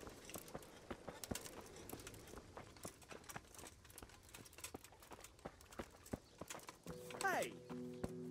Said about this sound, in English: Hitch up the white horse